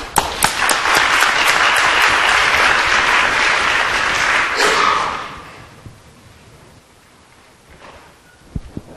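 Warm audience applause in a law school lecture hall welcoming the dean, steady dense clapping for about five seconds that abruptly tapers off, leaving quiet room noise and a few faint thumps.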